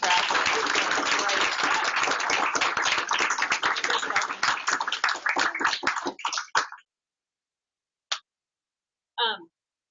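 A symposium audience breaks into loud, dense clapping that thins into scattered claps and stops after about six seconds, followed by two brief isolated sounds.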